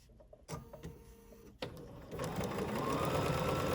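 A sewing machine bastes two fabric pieces together with a scant quarter-inch seam, starting in short close bursts before settling into a steady, continuous whir.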